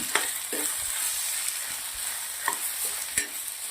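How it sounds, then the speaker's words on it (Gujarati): Tomato gravy with salt, turmeric, Kashmiri chili powder and kitchen king masala sautéing in a pan over a low gas flame, a steady close sizzle broken by occasional clicks of a stirring spoon, with no talking. "2 થી 3 મિનિટ સુધી આને ટામેટાની ગ્રેવીમાં મસાલા જોડે સાતળવાનું છે."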